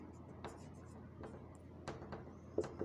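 Chalk or marker scratching on a board during a physiology lecture on breathing mechanics, a faint series of short irregular strokes and taps in a quiet room, with the lecturer's voice softly in the background.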